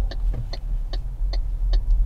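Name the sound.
relay clicking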